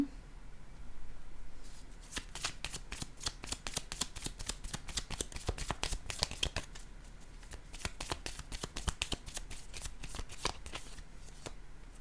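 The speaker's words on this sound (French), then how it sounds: "Je vais déposer une carte sur ces deux-là." Playing cards snapping down onto other cards in a rapid, close run of crisp clicks and flicks, steady for most of the stretch with no one talking.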